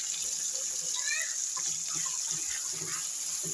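Water poured from a tap into a cooking pan while an eggplant (brinjal) stir-fry is being made; a steady, soft gush of running water continues throughout, with faint kitchen clatter behind it.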